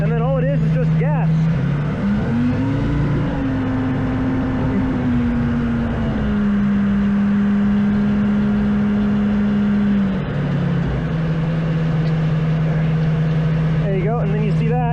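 A tank engine drives off after the parking brakes are released, a loud, close, continuous low drone whose pitch climbs as it gains speed, holds, then drops back toward a steady idle-like tone.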